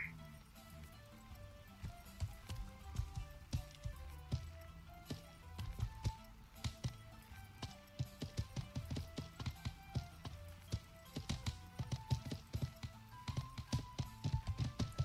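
Horse hooves clop quickly and steadily in the medieval multiplayer game Life is Feudal as the horse runs down a mountain, a close rhythmic patter over faint background ambience.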